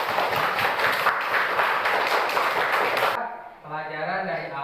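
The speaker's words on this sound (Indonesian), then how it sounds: "tepuk tangan untuk kita semua" Students in a classroom clap their hands together in a dense, loud burst of applause lasting about three seconds, then it stops abruptly and a voice begins speaking.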